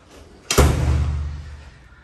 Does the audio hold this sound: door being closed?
yes